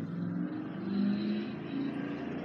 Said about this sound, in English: you heard that truck just zoomed down the street